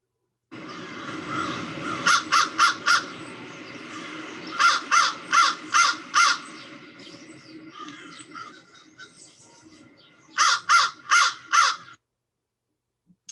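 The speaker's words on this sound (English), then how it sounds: "So here's our crow." Harsh crow caws arrive in rapid bursts of three or four, repeated several times over about ten seconds, loud and close against a faint background hum.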